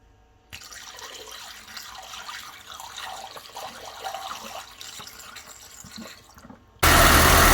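Liquid trickles and splashes steadily as coolant and distilled water are poured into a Mercedes W123 cooling system, close by, ending in a sudden loud burst of broadband noise.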